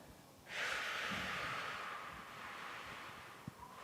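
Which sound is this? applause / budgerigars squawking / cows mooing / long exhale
long exhale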